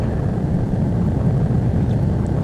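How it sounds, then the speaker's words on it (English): Eurofighter EF2000 jet in a video game, engine at full power on afterburner while rolling down the runway: a steady, loud, unbroken low roar that holds at the same level without pause. "go full power and put our afterburners on and we're rolling down the runway"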